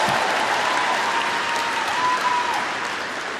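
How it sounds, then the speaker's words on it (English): Sustained audience applause at a university commencement ceremony for the commencement speaker, a dense, loud wash of clapping filling the hall and slowly easing toward the end, with no talk over it. "Please give our commencement speaker a resounding round of applause."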